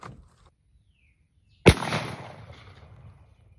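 A single loud shotgun blast fired with cheap duck shot at a plate outdoors cracks sharply after a quiet stretch, its report rolling away over about two seconds.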